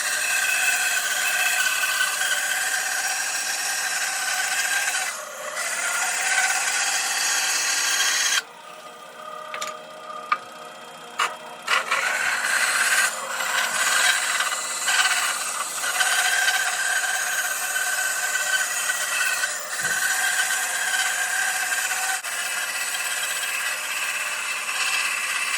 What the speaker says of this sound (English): I'm going to go ahead and start cutting those concentric circles